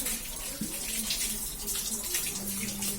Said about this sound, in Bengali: এবার তেল দিয়ে দেবো।